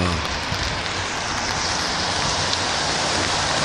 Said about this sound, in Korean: 비가 내리기 시작하고 있습니다.